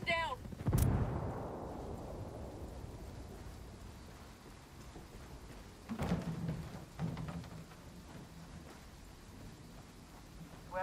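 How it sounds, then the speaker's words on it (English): A flashbang grenade is thrown and goes off in the video game Ghost Recon Wildlands, with a sharp burst near the start followed by a long rumbling decay and later thuds of gunfire. "Tossing a flashbang. Frag out"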